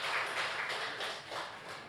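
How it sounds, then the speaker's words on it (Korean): Church congregation applauding to welcome a visiting missionary's wife during a Sunday service, a steady dense wash of many hands clapping that fills the whole moment, with no voices over it. "우리 한번 박수로 환영하면 좋을 것 같습니다."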